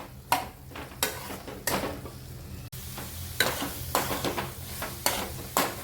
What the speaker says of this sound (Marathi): 1-2 मिनिटासाठी आपण भाजी शिजवून घेऊया.